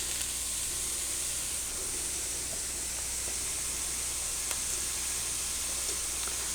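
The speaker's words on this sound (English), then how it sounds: "now I'm going to add onions" Onions sizzle steadily in a hot pan for a chicken cobbler, a close, even hiss of frying with faint crackles and pops throughout.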